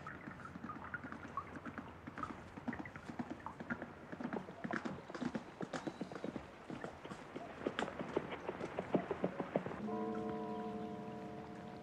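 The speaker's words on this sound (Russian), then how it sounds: "Красивый очень звук лошади, которая приезжает мимо." A horse's hooves clip-clop in an even rhythm as it passes by. The clopping grows louder as it nears and is followed by a sustained tonal hum near the end, with faint wind in the background.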